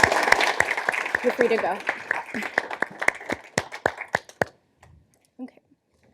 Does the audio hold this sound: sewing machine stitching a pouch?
no